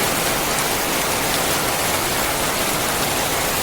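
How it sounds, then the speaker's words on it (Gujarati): Heavy rain pours down steadily, a dense continuous hiss of drops that stays even and loud throughout, with no voices. "ખુલ્લા આકાશમાં ધોધમાર વરસાદ"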